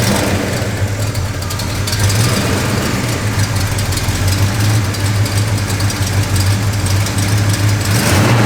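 Engine of a 1969 Pontiac GTO idling nearby, a loud steady low rumble with a deep throb and a slight lift in revs partway through, no talking.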